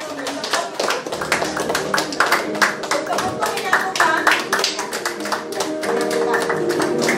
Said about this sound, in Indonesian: Terima kasih, aplaus untuk Bapak Ibu.